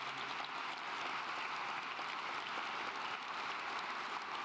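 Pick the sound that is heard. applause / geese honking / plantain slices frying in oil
applause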